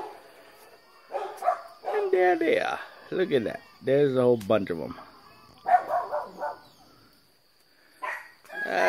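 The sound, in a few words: dogs barking at pigs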